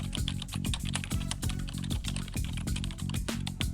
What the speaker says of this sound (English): Just type a prompt